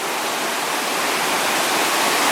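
Poor Man Creek rushing past the Gaston Mine site, a steady, close, full-bodied hiss of flowing water that holds at an even level with no voices.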